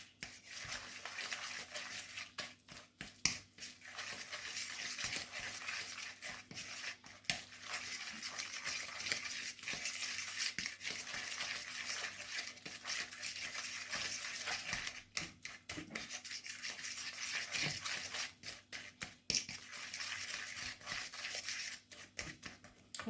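Tart dough for a tarte tatin is stirred after egg and vanilla sugar go in, a busy stream of fast clicking and scraping from a utensil against a bowl, steady and close, with no voices.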